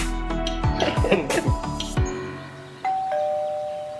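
Several quick chimes ring out in a bright cluster, then a single sustained electronic tone sounds and hangs on faintly.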